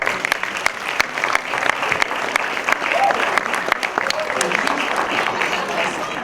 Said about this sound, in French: Je voudrais que la salle lui fasse un applaudissement